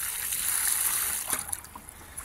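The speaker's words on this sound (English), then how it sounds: "I'm just going to wet this car up so you can see that this one still works." Water poured over an RC car coated with Ultra Ever Dry waterproofing: a steady, close splashing hiss that breaks off into scattered trickles and drips.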